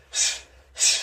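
Two sharp, forceful breath exhales during martial arts strikes in a total-body workout, each a short breathy burst, close and loud, with a brief pause between them.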